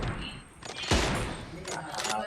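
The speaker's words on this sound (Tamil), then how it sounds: "யோ என்னையா ஷார்ட் கன் வச்சு அடிக்கிறாங்க." Shotgun fire in the mobile battle royale game PUBG Mobile, a single heavy blast with clattering game effects around it, heard under excited talk from players.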